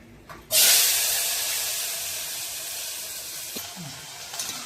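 Field beans and potato land in a hot pan of oil with fried chillies and start a loud, sudden sizzle. The hiss stays steady and slowly fades, heard close with no talking.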